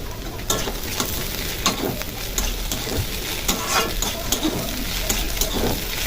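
Potatoes, onions and fried eggs sizzle steadily in a hot pan while a utensil stirs and scrapes through them, giving a continuous close crackle broken by irregular scraping clicks, with no talking.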